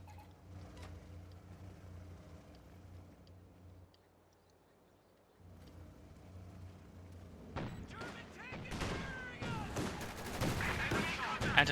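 In Company of Heroes 2, twin anti-tank guns open up on an Osprey, quiet rumbling giving way to a dense, loud burst of cannon blasts and explosions near the end.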